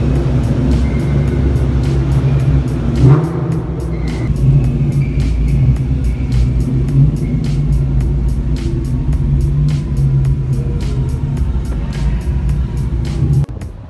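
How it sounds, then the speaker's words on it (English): Cars revving their engines inside a parking garage, a loud continuous echoing engine rumble with brief rising revs over it and steady ticking noise above. "everyone is revving the piss out of their cars"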